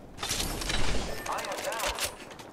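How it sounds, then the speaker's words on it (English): Rapid gunfire in the video game Apex Legends, a dense close fusillade of overlapping shots that swells and then tapers, with a voice briefly heard underneath. "Opening fire on the enemy."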